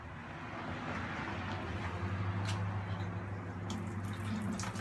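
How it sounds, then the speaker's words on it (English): Water pours from the hose of an FX6 canister filter into a bucket, a steady close rushing splash that runs continuously without breaks. "water starts to come out, as you can see"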